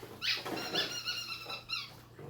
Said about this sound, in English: 2 squeaky toys